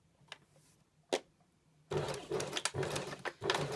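Sewing machine stitching a shirt neckband to the neck edge, starting with a couple of faint isolated clicks, then a close, steady mechanical whirring run of stitches with a slight rhythmic pulse, heard alone without talk.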